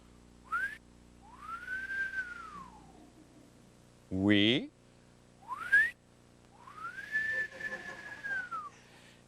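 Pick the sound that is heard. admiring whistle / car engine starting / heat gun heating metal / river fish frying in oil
admiring whistle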